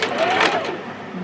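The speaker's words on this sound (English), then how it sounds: "we're just going to sew straight across that line where the little cone is." A sewing machine runs a short, fast burst of stitching straight across a quilt block, steady and close, then winds down.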